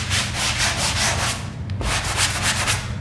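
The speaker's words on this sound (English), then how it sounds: "Now I would use the lesser grit of the sanding block." A sanding block with finer grit rubs lightly back and forth over a small drywall patch, making steady rhythmic scratchy strokes, close and continuous, with a brief pause midway.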